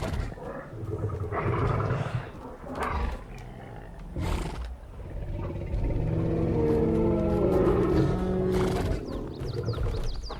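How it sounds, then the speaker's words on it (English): A Titanic elephant creature in the game Ark Survival Ascended lets out a loud, drawn-out roar, layered trumpeting and growling blasts with rumbling undertones and brief whinny-like cries, sustained over several seconds. "X is apparently the roar"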